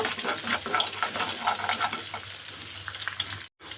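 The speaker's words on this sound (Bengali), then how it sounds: "এখানে একটা ডিম একদম ঝুরি করে ভেজে নেব।" An egg scrambles and fries in a hot pan with constant crackling sizzle and scraping stir strokes, close and alone, cutting out briefly near the end.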